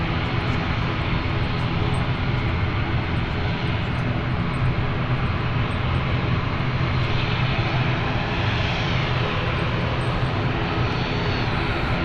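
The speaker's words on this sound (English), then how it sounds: "So our Glasgow flight is lining up as we speak" Airliner engines run steadily at London City Airport as a flight lines up on runway 27, a continuous near, loud roar with no talk.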